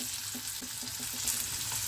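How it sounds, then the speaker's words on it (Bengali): Onion frying over high flame in mustard oil, a soft continuous sizzle with faint regular stirring taps, steady and close, no speech. "পেঁয়াজটা একটু ভাজা হোক"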